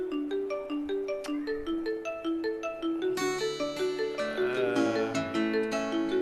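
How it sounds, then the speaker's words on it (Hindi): An incoming-call phone ringtone plays alone, a repeating electronic melody of short bright tones, joined midway by a fuller, layered chiming tune that grows louder toward the end. "फ़ोन कोई आ रहा है, उसको उठाना जो है"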